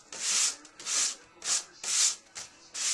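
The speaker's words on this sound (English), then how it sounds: "So we'll finish up sanding" Filler powder is being sanded smooth along the seams of a model aircraft wing. About six close, rhythmic back-and-forth rubbing strokes rasp steadily with brief pauses between them.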